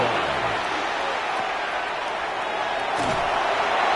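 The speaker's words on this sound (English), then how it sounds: "It's worthy of some applause." A large stadium crowd roars in a dense, continuous wash of applause and cheering at the Bears at Raiders NFL game, honoring a 20,000-yard career milestone, loud and steady throughout.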